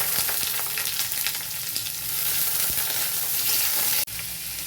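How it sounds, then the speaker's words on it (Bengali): Chopped onion fries in hot oil in a kadai, a dense, close sizzle with small crackles and stirring clicks, steady throughout and briefly cut near the end. "এখন আমি পেঁয়াজ কুচিটা ছেড়ে দিলাম।"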